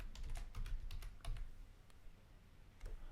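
Typing on a computer keyboard enters a message in an app, with steady close keystrokes clustered in the first second and a half, then a few isolated taps and a short final burst.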